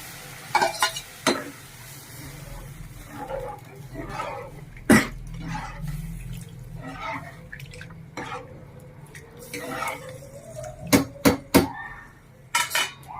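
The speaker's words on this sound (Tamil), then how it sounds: "நல்லா வதக்கிட்டு இருக்கிற கடலை மாவை இதில் மிக்ஸ் பண்ணிடணும்" Sautéed gram flour is stirred into a cooking pot with a spoon, giving irregular scraping clatters and sharp metallic clinks over a steady low kitchen hum.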